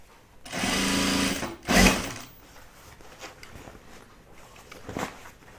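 A domestic sewing machine stitches a seam in a short, steady whirring burst, followed by a sharp mechanical clunk and then quiet handling noises, with a faint later click.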